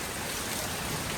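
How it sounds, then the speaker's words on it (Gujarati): Heavy first rain of the season falls during a thunderstorm as a dense, steady hiss that stays constant throughout, with no voices. "ફૂલ ભરાઈ ગયો આ વરસાદ આવો પહેલો વરસાદ આવ્યો"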